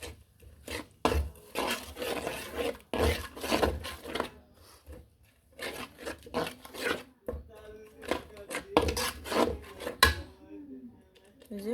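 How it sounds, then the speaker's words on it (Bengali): Spices and ground green chilli paste are stirred and fried in a pan, giving repeated scraping, rasping strokes in bursts with short pauses, close and fairly loud. "এখন মশলাগুলো একটু কষিয়ে নিব ভালো করে"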